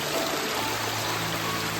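Mountain stream water in the Konkan countryside runs steadily over rocks, a continuous soft rushing and trickling, fairly faint and even throughout with no talk.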